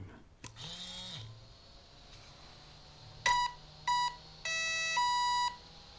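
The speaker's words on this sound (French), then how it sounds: "on allume la radio. Power on." A hobby RC radio transmitter for a car powers on with a short series of electronic beeps, ending in one longer tone, after a brief whir and click in a quiet room.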